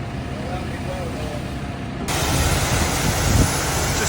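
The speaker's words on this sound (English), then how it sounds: "Just started up the dressing plant now" Seed dressing plant running on a farm during seed cleaning, a steady droning machinery rumble that grows louder partway through, with a voice talking over it.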